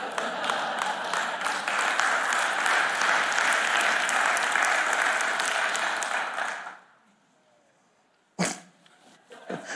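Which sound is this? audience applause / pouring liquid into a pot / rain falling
audience applause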